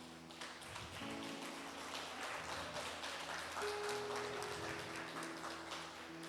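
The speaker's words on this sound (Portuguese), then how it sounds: "Vamos aplaudir ao nosso Deus." A church congregation claps at a worship service under sustained instrumental notes. The clapping sounds faint and distant, a soft patter of hands beneath the held tones.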